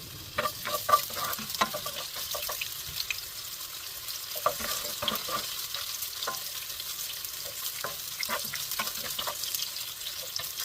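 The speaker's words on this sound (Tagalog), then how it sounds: "Unahin muna natin gisahin ang luya hanggang maging golden brown." Ginger sautés in hot oil in a pan, a soft continuous sizzle broken by clusters of light stirring scrapes, close but fairly quiet, with no voices.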